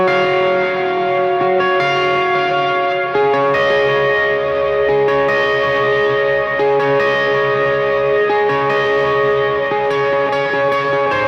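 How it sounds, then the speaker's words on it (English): Electric guitar played through overdrive, reverb, delay and a boost pedal rings out in sustained, shimmering chords with echoing repeats, steady and loud throughout with no talking. "Now I'm going to throw on the same overdrive, reverb, and delay, and I'm also going to kick on a little boost"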